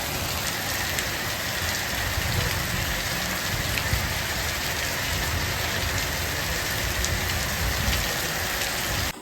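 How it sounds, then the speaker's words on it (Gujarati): Heavy rain pours down steadily during the Navratri season, making a loud, dense, close hiss of drops on surfaces that lasts unbroken throughout with no talking. "વરસાદ વરસાદ વરસાદ આવે જો."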